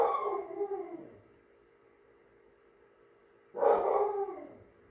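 A small dog barks and howls nearby in two separate bursts, one at the start and another a few seconds later, with quiet in between.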